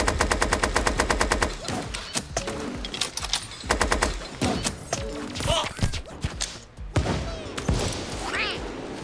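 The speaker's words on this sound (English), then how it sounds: "Lily actually picked up the minigun." A minigun fires in a battle royale game, opening with a fast, even burst of loud rapid shots, then choppy volleys of gunfire, thuds and explosions in a busy fight, with scattered game effects and no voices.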